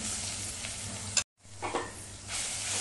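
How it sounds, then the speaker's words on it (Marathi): Green coconut paste sautéed in hot oil tempered with cumin and asafoetida, sizzling and crackling steadily while a spoon stirs, with a brief drop-out partway through. "चांगलं वाटण तेलामध्ये परतवून घेऊया"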